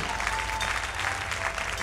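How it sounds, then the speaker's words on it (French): A church congregation claps steadily together in a dense, sustained wash of applause, fairly loud and even throughout, with no one speaking over it. "Acclamation à Jésus-Christ de Nazareth, s'il vous plaît."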